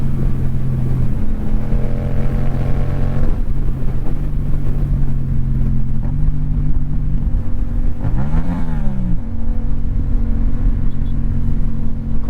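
A loud, steady motorcycle exhaust, from a Yamaha R6 or MT-07, rumbles throughout, rising into a brief rev partway through before settling back to a deep idle-like drone.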